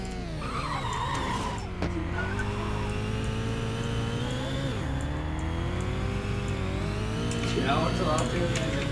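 Tires skid and squeal as a car drifts in the game Los Angeles Crimes, with a steady engine drone and sliding pitch sweeps under constant road noise; a voice talks over it now and then.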